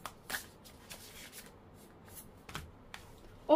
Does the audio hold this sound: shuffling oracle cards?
yes